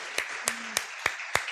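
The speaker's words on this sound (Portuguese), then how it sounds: "Pode aplaudir eles" Five slow, evenly spaced claps ringing out in a church, sharp and distinct with a slight echo, about three tenths of a second apart, over faint background murmur.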